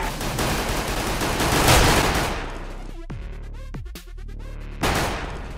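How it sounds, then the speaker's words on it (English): Dense bursts of video game gunfire, including P250 pistol shots, rattle loud and close, then give way to a few sharp, ringing single shots and a final burst. "P250 jump shot to the head."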